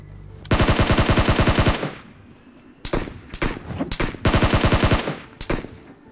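Automatic rifle fire in the battle royale game PUBG Mobile: two long, loud rapid bursts of gunfire with a few single shots and shorter volleys between them, all close-range.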